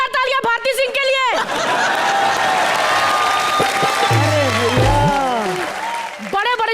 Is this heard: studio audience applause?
yes